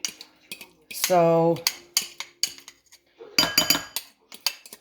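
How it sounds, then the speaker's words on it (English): Cutlery clinks and scrapes against a pot while a turkey mixture is stirred, a series of sharp close metallic knocks in an uneven rhythm with a louder grinding scrape early on and a cluster of rattling hits later; a voice speaks briefly. "then I'm gonna try to stir it up a little bit"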